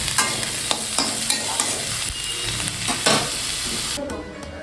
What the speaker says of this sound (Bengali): এই শাকটা দিয়ে ভাজা করছি